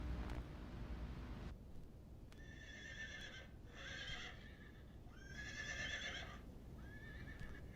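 A horse whinnies several times in drawn-out, wavering calls, with a rumbling, windy background and faint hoof clops underneath, fairly distant and quiet.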